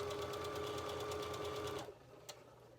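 A sewing machine runs a steady, fast stitching buzz with white cotton thread at standard stitch length, then stops abruptly near the end, leaving a faint click afterward.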